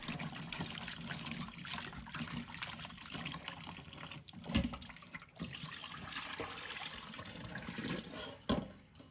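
Brushed abalone rinsed under a running tap, a steady close trickle and splash of water with brief louder bursts as the shells are moved through the stream.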